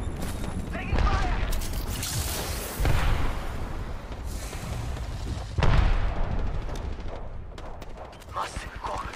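Gunfire in the battle-royale shooter Apex Legends, with bursts of shots and heavy booms landing around 1, 3 and 5.5 seconds over a constant din of game noise, while a character voice talks throughout.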